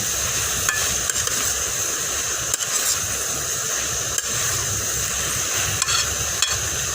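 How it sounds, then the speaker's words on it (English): Beef liver sizzles steadily, stir-frying in thin slices in a hot pan while a utensil occasionally scrapes and taps as it is stirred. "So we're gonna let this meat to fry up some. So it's basically stir frying"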